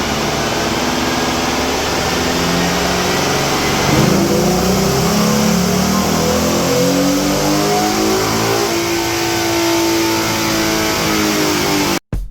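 A Ford Mustang street car engine revs up and holds a loud, rising roar, pitch climbing and sweeping as it accelerates, close and continuous before cutting off abruptly at the end.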